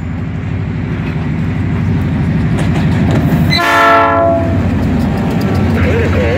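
A long freight train rolls steadily past a hot wheel detector with a constant rumble and clatter of cars, and a loud horn-like tone swells briefly near the middle before fading back into the passing rumble.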